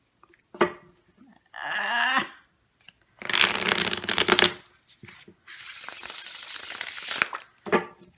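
A premium-edition tarot deck being shuffled up close: bursts of crisp card riffling and flicking in several separate runs, loud and alone with no talking.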